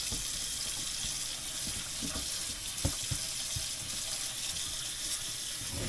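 A sink faucet runs steadily while dishes are washed up at a home kitchen sink, a constant close hiss of flowing water with a few faint clinks and splashes underneath.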